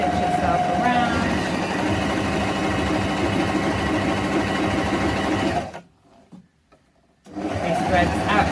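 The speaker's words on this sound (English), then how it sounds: "So I'm literally just going to go and let it stitch itself around." A Janome Coverpro 2000 sewing machine stitches in a loud, steady, rapid mechanical whir that runs continuously, stops abruptly for about two seconds of near silence, then starts again.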